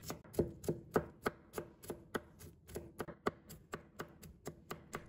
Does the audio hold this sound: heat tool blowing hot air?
no